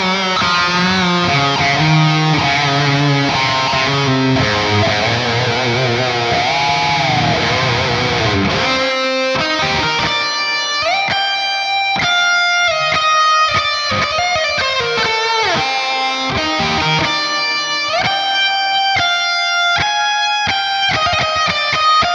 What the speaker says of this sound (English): it is just a really thick atmospheric reverb here